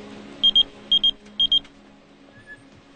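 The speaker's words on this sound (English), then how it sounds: "Luckily, the beeper worked." A pager beeper going off in three quick pairs of shrill electronic beeps, evenly spaced and close, over a low background rumble, then silence.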